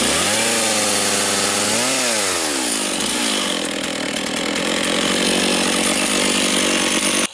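A chainsaw runs loud and close for the whole stretch, its engine revving up and down at first and then settling into a steady harsh cutting snarl, likely while shaping wood into furniture.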